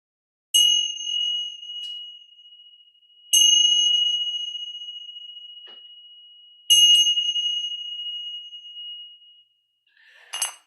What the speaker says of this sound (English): So I'll just ring the bell to officially start